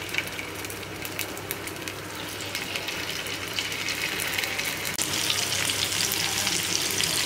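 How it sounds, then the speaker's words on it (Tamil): Marinated prawns frying in hot oil in a pan over a medium flame, giving a continuous dense crackling sizzle that holds steady and grows slightly louder, close and without talk. "இது 2-3 நிமிஷம் நல்லா ஃப்ரை ஆகட்டும். மீடியம் ஃப்ளேம்லேயே ஃப்ரை பண்ணுங்கள்."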